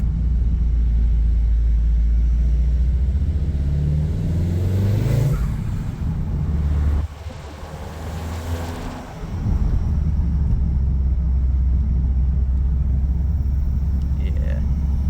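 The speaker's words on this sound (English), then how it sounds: "You can hear the turbo way more though." A VW MK7 Golf R fitted with APR charge pipes and a new blow-off valve runs with a loud, close engine rumble, rising in a brief rev and turbo spool midway before settling back to a steady drone.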